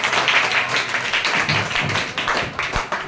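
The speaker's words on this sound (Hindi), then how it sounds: "ताली बजाओ, पहले ताली बजाओ।" Students in a classroom clapping their hands, a brisk run of fairly loud, close claps lasting a few seconds.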